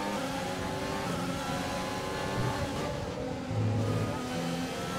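Formula 1 race cars overtaking in F1 2020 at the Bahrain circuit, a continuous high engine whine with shifting pitch and a brief surge as cars pass close by, with no voices.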